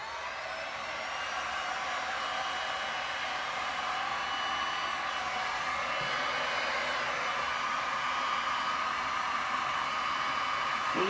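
A heat gun blows steadily on resin Christmas ornaments, a constant airy whoosh holding at even volume for the whole stretch, close by with no talking.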